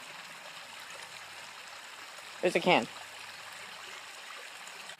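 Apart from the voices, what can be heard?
water flowing in a creek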